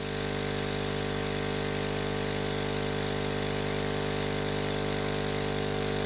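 A Hailea ACO 318 laser air assist pump runs with a hose attached, giving a steady unbroken hum with a fixed buzzing tone, constant and fairly quiet throughout.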